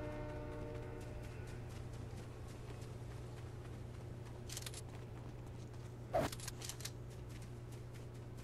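A train in the video game Fortnite rumbles along with a steady low drone and a fading horn tone early on, punctuated by scattered clacks and one sharp bang, no voices over it.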